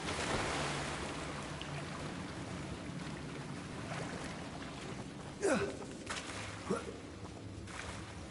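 Water in Hogwarts Legacy: a steady washing rush like waves or flowing water fills the scene at low level, with a couple of brief swishing accents near the end.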